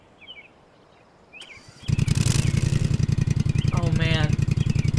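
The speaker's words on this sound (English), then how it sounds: "So this is my new lawn tractor." A lawn tractor engine in the Lawn Mowing Simulator video game starts up partway through and runs loud and steady with a rapid rhythmic chugging. Faint bird calls come first, and a brief bird chirp sits over the engine later.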